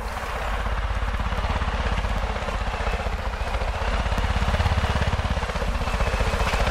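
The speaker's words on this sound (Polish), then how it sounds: "Pieprzony ten helikopter." A helicopter's rotor in Far Cry 5 thrums with steady, rapid chopping pulses and a low engine drone, loud and continuous throughout with no talking.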